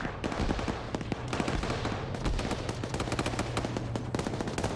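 Rapid automatic gunfire in Arma 3 during a Black Hawk Down themed military operation, dense overlapping bursts and single shots crackling continuously at close to mid distance with no voices.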